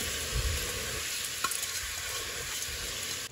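Wet rajma masala rice with Indrayani rice being stirred in a pan, a steady close scraping and soft sizzle running throughout with one brief clink near the middle, no voices.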